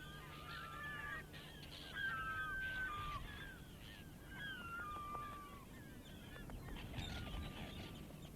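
Arctic terns cry in repeated harsh, grating calls while dive-bombing a bear on an Arctic beach, the calls overlapping at mid distance over wind and background noise, no voices.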